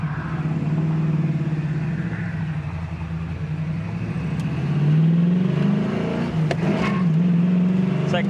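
A 1979 Chevy Camaro Z28 V8 pulls hard through second gear, its steady low engine drone rising in pitch as the tires briefly scratch, with a few sharp clicks near the end.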